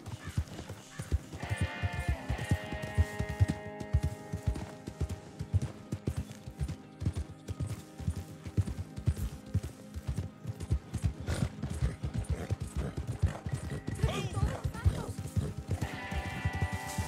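Horse hooves clip-clopping in a steady galloping rhythm in the Western video game Red Dead Online, close and continuous under game music and other background sounds.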